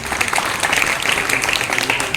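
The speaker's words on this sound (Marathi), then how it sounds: "पालकांनी एकदा विद्यार्थ्यांसाठी जोरात टाळ्या वाजवण्या मिळणार" Parents give loud applause for students at a ceremony honouring scholarship and medal winners. The clapping is a thick, steady roar of many hands that continues without a break.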